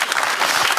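Audience applause at a live digital town-hall talk event with the president, a short burst of dense, steady clapping from a crowd with no voices.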